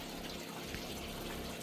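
A fish pond filter pump drawing in water, heard as a steady, close rushing and gurgling flow that continues evenly throughout without pauses.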